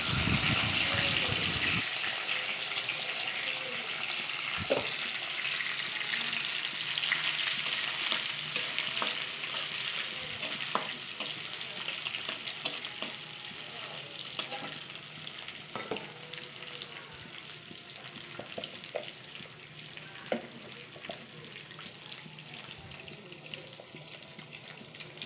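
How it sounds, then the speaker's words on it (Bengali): Dried fish frying in oil in a wok gives a continuous, bright sizzle with occasional pops and stirring scrapes, close and steady throughout. "এখন আমি কড়াইতে তেল দিয়েছি, সেই তেলের মধ্যে শুটকি ছেড়ে দিব"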